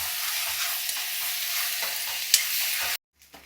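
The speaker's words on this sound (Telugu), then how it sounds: "ఈ పక్కనేమో ఇది వేగుతుంది" Fish curry fries in a pan with a steady, close hiss and crackle that runs on evenly and then cuts off abruptly near the end.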